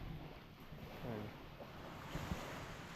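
Sea surf washes steadily onto a tree-lined shore, a continuous faint roar of breaking waves with wind buffeting the microphone throughout.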